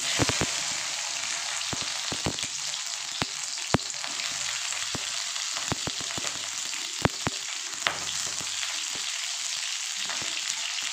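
Okra drops into hot oil already holding fennel seeds, giving a steady, loud frying hiss scattered with many sharp pops and crackles throughout.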